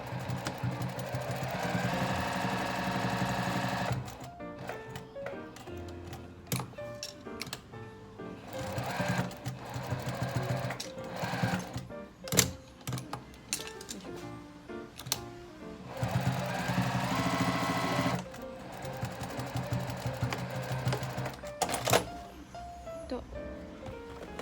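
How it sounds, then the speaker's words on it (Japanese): A sewing machine stitches around a leather smartphone pouch, its motor whirring loudly in sustained runs with short stops and restarts between passes. "真ん中に置いてここを一周ぐるりと1ミリで縫っていきます。"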